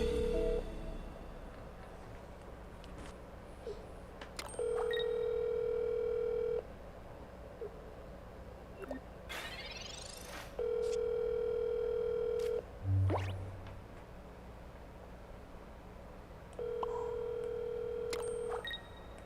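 A phone dialing John: electronic beeps and a dial tone, then three long steady ringback tones with gaps between them, fairly clear with no talking.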